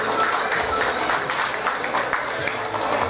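Crowd applause at a town patron-saint festival in Uluazapa, El Salvador, honoring a municipal music school instructor: dense, sustained clapping from many people, loud and even throughout with faint voices mixed in.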